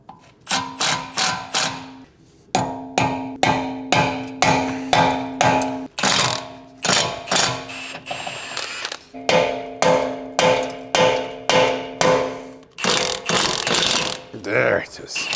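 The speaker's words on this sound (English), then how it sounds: "Unbolt the caliper bracket." A ratchet unbolting the brake caliper bracket on a BMW E39 M5, clicking through quick, evenly paced strokes in close-up runs broken by brief pauses.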